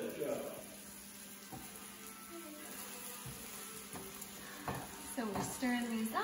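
Eggs, onions and zucchini frying in butter in a pan give a faint steady sizzle with occasional stirring scrapes, close but quiet, while a few voices talk briefly over it.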